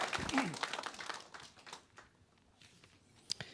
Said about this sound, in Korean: 감사와 우리 하나님께 영광의 박수 다시 한번 드리죠